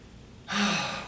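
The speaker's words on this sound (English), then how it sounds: "Deep breathing is a powerful way to move the lymph." A single deep breath for moving lymph, a close, soft airy inhale rising into a fuller, louder breath that fades away, heard alone in a quiet room.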